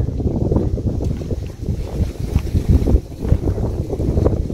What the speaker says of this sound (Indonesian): Ini anginnya cukup gede juga.